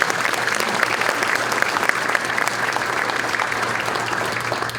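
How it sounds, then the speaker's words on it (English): An audience at an annual awards breakfast applauds, a dense and continuous patter of clapping held at a steady level from start to finish. "Howard, please stand so we can give you a round of applause for your generous contributions to the Chamb"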